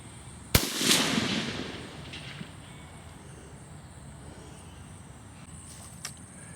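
A tank cannon fires once in a World War II tank combat video game: a sharp, loud crack followed by a rumbling decay over a couple of seconds, then a faint click near the end.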